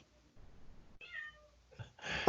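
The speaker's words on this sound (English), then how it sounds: "Can y'all hear that cat?" A cat meows near a podcast recording, first a short, faint cry, then a clearer, drawn-out meow and a louder one close by.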